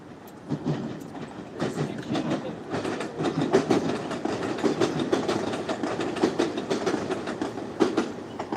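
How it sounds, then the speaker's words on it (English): A train rumbles past nearby on a city street in Toronto's King Street West, steady clickety-clack of wheels over rail joints repeating throughout under a continuous low mechanical roar. "you can see the train is coming"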